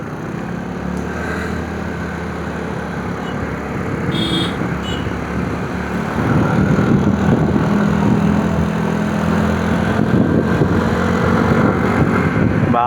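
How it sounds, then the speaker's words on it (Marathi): A car driving along a road on a trip to Alibaug gives a continuous rumbling engine and road noise that grows louder partway through, with no talk. "बापरे गाडीचा आवाज बघा."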